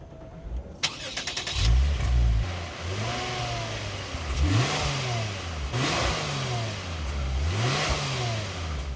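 A Lexus IS350 F Sport sedan engine cranks and catches, revs up a few times with rising and falling pitch, then settles into a steady idle close by.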